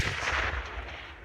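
A rifle fitted with a Zerotech Vengeance 1-8x scope fires once at a steel target outdoors, giving a single loud muffled blast whose boom rolls off into a fading echo.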